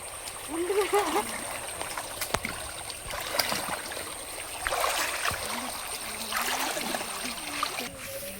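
A waterfall and stream pour steadily near a green hillside temple in the forest, a broad continuous rush running under people talking throughout.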